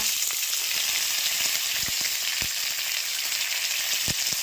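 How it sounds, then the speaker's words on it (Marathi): Cumin and mustard seeds crackle in hot oil for Nagpuri tarri pohe, a dense steady sizzle with scattered sharp pops, close and uninterrupted, with no voices. "जिरी मोहरीचा आवाज तुम्हाला येतच असेल"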